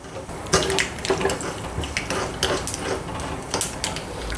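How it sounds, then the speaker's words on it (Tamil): Mustard seeds and urad dal splutter in hot oil for tempering a manathakkali kuzhambu, giving close, irregular crackling pops over a soft, wet sizzle. "கடுகு வெடித்து பருப்பு நல்லா செவந்துருச்சு பாருங்கள்"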